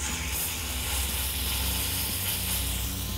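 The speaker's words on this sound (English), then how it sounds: "It's sizzling." Beef tenderloin sears in a hot pan, giving a steady, fairly loud sizzle and hiss that runs on without a break while nobody speaks.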